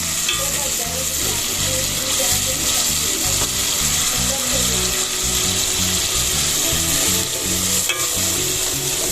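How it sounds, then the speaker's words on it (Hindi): Garlic-ginger paste frying with onions in a pan for spinach and potato curry, a steady loud sizzle with continual stirring scrapes across the whole stretch, with no talk. "लहसुन अदरक का पेस्ट शामिल कर दिया है और इसको मैं अच्छे से भून लूँगी"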